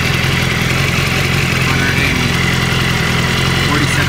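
A 2015 BMW S1000RR motorcycle with an Arrow exhaust idles warm, a steady, close, throbbing drone that stays even and loud throughout with no revving.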